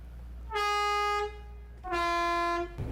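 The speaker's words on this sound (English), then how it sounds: "City and air horns must function properly to warn other traffic of your presence." Two loud blasts of a truck air horn, the first about a second long, then a pause and a second longer blast, close and piercing.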